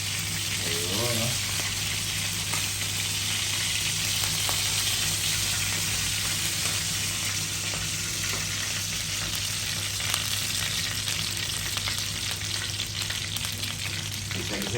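Onions and garlic fry in a pan while beef caldereta is cooked, a dense steady sizzle that runs unbroken and fairly loud, with occasional stirring clatter.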